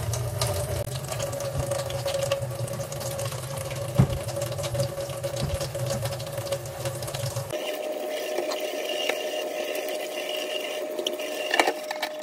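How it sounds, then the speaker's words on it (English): Tap water runs steadily into a kitchen sink during cleaning, a continuous hiss and splash with a low rumble at first, then a brighter, thinner flow partway through, plus a couple of knocks. "So I forgot you gotta clean the sink out."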